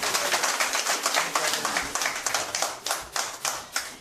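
A crowd at a political party event welcoming new members, applauding in a loud, dense burst of rapid claps that holds steady the whole time, close and with no talk.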